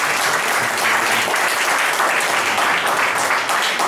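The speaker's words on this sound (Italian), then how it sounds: "Un grande applauso perché è uno dei gruppi in assoluto migliori del nostro panorama." An audience at a medieval-culture award ceremony in Italy gives dense, sustained applause with no breaks, loud and even for several seconds.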